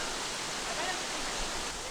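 Steady broadband rush of a small creek flowing through a forest in Olympic National Park, Washington, a continuous close water hiss with no breaks.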